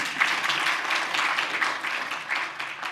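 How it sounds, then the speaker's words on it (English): Audience applause at a Marquette Law School restorative justice conference, dense steady clapping from a crowd at moderate level throughout. "We can clap for her"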